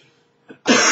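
A man coughs with a cold indoors: a faint throat rasp, then one abrupt, loud, harsh cough bursting at close range.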